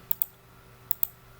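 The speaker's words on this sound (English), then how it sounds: "I'm holding the space bar, by the way, and then left clicking to move around." Two pairs of sharp, close computer keyboard and mouse clicks, space bar and left button pressed in quick doubles about a second apart, over a quiet room with a faint steady hum.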